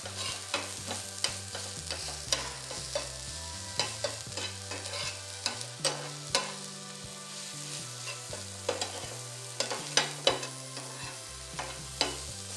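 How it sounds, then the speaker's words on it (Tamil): Spinach sautéing in a pan with a little salt, a low sizzle broken by frequent clicks and scrapes of stirring, heard close under soft background music with no talking. "முதல்ல கீரையை நல்லா வதக்கிடலாம் நம்ம"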